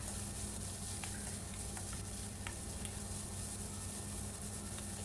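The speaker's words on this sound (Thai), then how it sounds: "ก็ใส่หมูลงไปเลยค่ะ ผัดจนกว่าหมูมันจะสุก" Pork belly stir-frying in a hot pan for a cabbage dish, a continuous hiss and crackle with a few faint scrapes of the utensil, steady and close with no talking.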